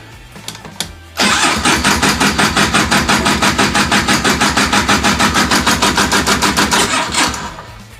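An Odyssey FL350 engine cranks over with a couple of brief clicks, then catches on cold choke and settles into a loud, steady, rhythmic pulsing idle that runs close and alone until it cuts off near the end.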